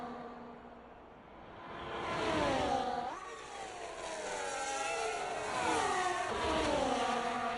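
Formula 1 cars race around the Las Vegas street circuit in F1 24, their high-pitched engines whining and shifting through gears as several cars pass in close succession, a steady moderate roar without talk.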